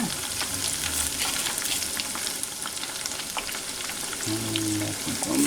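Mac and cheese bites deep fry in hot oil with a steady, close sizzle and bubbling crackle, and occasional stirring noises come through near the end.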